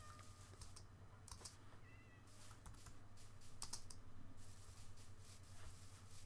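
Cats meow in a blocky sandbox game village near berry bushes, with a few short mewing calls rising over steady computer keyboard typing and a low background hum.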